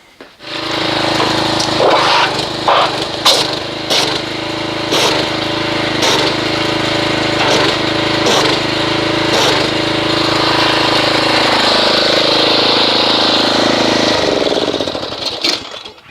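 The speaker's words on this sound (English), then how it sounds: "let's agitate this with the pressure washer and see what kind of foamage we get" A pressure washer runs loud and steady for most of the stretch, its motor droning with periodic sharp surges as it agitates car wash foam, then it cuts off near the end.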